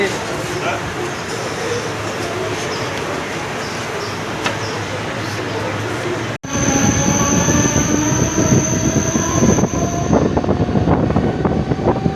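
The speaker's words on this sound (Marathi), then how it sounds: "ट्रेन तर आले आता, चला जाऊया." A train rolls in loudly, wheels rumbling on the rails, then sharp metallic squeals ring out as it slows near the station platform.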